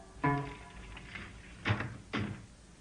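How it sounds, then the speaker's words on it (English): Three dull, separate knocks on a wall in a spooky video game, each a short hollow thump with pauses between, heard alone without talk. "Why did he keep knocking on the walls?"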